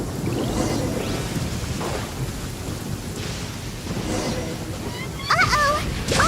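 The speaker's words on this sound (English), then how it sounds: "Uh-oh! Lightning storm! Just our luck." Rumbling thunder and steady rain from a lightning storm in the video game Genshin Impact, with several low rolls of thunder spread across the clip and a short burst of sharper game sounds near the end.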